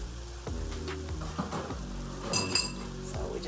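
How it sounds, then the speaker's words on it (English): Beef cooking with garlic and ginger in a pan for a pepper steak stir fry, with a soft sizzle under scattered clinks and scrapes of a utensil stirring the meat. "Just kind of give that a stir"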